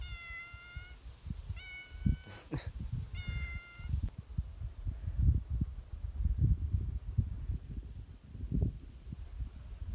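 A cat meows outdoors on a hillside pasture: two harmonic cries early on and a third around the two-second mark, fairly close, followed by rustling and wind noise with footsteps.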